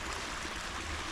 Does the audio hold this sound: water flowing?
yes